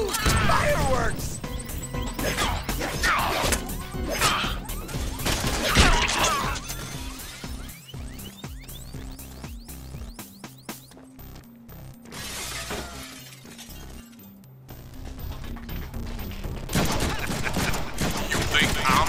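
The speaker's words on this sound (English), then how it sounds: "Fireworks!" In the Deadpool video game, explosive bangs and crackling blasts burst repeatedly and loudly in rapid clusters, like fireworks going off, mixed with game music and brief voices.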